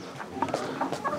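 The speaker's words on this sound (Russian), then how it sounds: "Курочки." Farmyard hens cluck in a quick, uneven run of short calls, close and fairly loud, with no talking over them.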